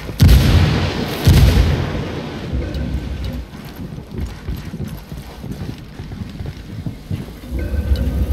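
Frag grenade blast and gunfire in the video game Ghost Recon Wildlands: two heavy booming explosions up front, then a continuous rumble of rattling gunfire and debris, with a faint voice underneath.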